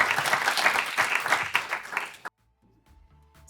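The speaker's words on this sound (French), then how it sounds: "Je pense qu'on peut l'applaudir très, très, très, très fort." An audience at a seminar applauds, a dense steady wash of many hands clapping that cuts off abruptly after about two seconds into near silence.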